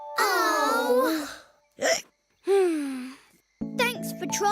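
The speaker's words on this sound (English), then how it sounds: "Rara, did your hiccups go away?" A cartoon lion hiccups with a short, sharp gulp between longer voiced cries and vocal sounds, close and clear, ending in bright tinkling musical tones.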